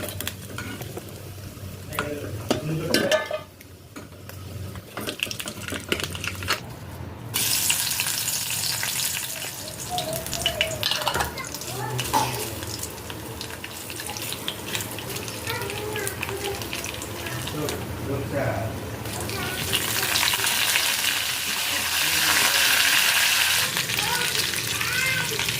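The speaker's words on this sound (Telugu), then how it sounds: "పప్పుని తాలింపు వేయడానికి ముందే అదే మూకిట్లో నేను వడియాల్ని ఫ్రై చేసుకుంటున్నాను" Vadiyalu, sun-dried lentil fritters, fry in hot oil in a pan, a steady close sizzle with occasional stirring and clinks while someone talks over it.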